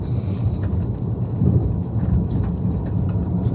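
Steady heavy rain pours down on Nathana village in Punjab with a deep rumble of thunder rolling underneath, continuous and fairly loud throughout.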